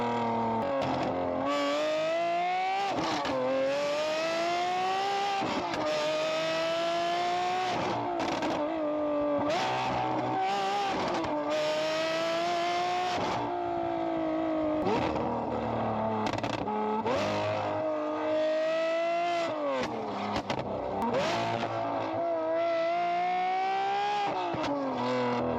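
Lamborghini Aventador Ultimae with a valved Valvetronic exhaust revving hard, the engine note climbing and falling in repeated loud sweeps broken by sharp pops and crackles, close and continuous with no talking.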